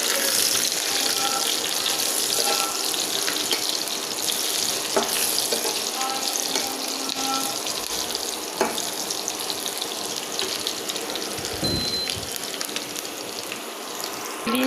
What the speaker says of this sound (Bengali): আমি প্রথমে এখানে পেঁয়াজ আর তেল দিয়ে দিলাম।